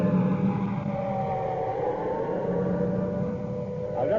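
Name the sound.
air raid siren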